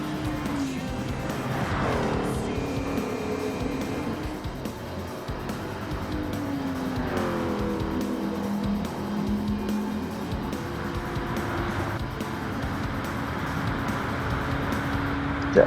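Race car engines droning steadily through a Gran Turismo 7 race, with rising and falling pitch sweeps as cars accelerate and shift, a continuous loud mix of engine tones from start to finish.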